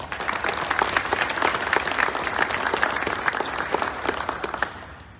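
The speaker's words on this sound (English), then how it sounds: "Can we give them a round of applause?" Steady audience applause fills an outdoor Field of Honor opening ceremony, dense crowd clapping sustained at an even, loud level throughout with no voices over it.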